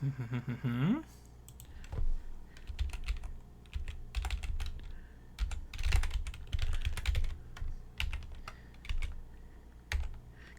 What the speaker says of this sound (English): The whole experience of me typing this out by hand in my backup browser.